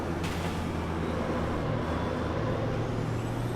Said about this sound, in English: Oh, listen to that wastegate.